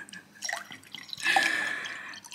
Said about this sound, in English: Now the chef is pouring me some juice.